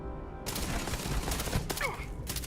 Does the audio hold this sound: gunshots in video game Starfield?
yes